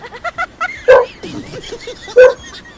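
A dog barks and yips repeatedly nearby, with two louder sharp barks among quicker, smaller yelps.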